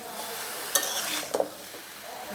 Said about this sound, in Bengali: ভালো করে একটু কষিয়ে নেব দুন্দুলটা মশলার মধ্যে।